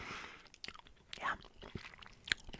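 Wrigley's chewing gum being chewed close to the mic, with soft wet smacks and crunchy bites scattered irregularly over quiet pauses.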